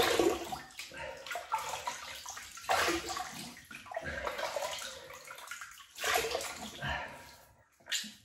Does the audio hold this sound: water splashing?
yes